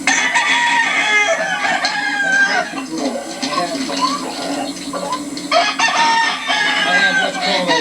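Gamefowl roosters in training crow repeatedly, several loud overlapping cock-a-doodle-doos with clucking in between, close by, while someone talks over them.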